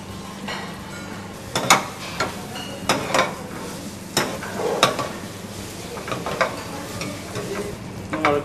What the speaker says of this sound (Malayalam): സവാള നീളത്തിലരിഞ്ഞത്, ഒന്ന് വഴറ്റി വരുമ്പോൾ